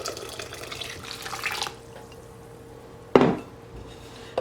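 Water pours into a pot of stevia, a splashing stream running for about a second and a half, then fading, followed by a brief clatter of pot or utensil contact, close by with no voices.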